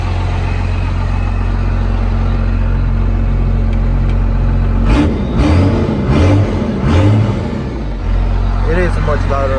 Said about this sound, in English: now you can hear the turbo spool up as the engine starts up